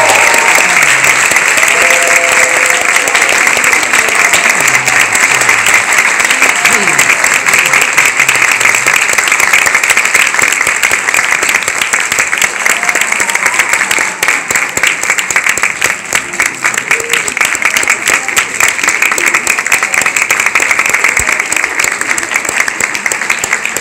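A large audience applauding new members on stage at an SGI-USA event, dense sustained clapping that stays loud and even for over twenty seconds, with faint voices mixed in.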